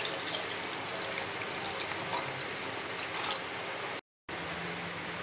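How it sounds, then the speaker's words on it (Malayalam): Cold water is poured into milk cream for homemade ghee, making a steady close trickling pour that cuts out briefly and then resumes. "അപ്പം നമുക്ക് അല്പം തണുത്ത വെള്ളം ഒഴിച്ചു കൊടുക്കാം."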